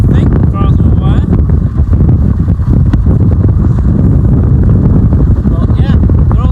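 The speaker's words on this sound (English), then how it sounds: "I've had to put my hood up because it's so windy" Loud, constant wind buffeting a microphone on open farmland during spring chain harrowing with a Massey Ferguson tractor, a heavy low rumble with brief faint voice fragments showing through.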